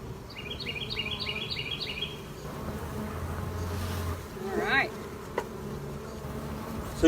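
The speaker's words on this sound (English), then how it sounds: "we have thousands and thousands of bees inside this hive" Bees fill an opened beehive with a steady close-up hum, while some chirpy bird calls sound early on and a brief rising whine comes near the middle.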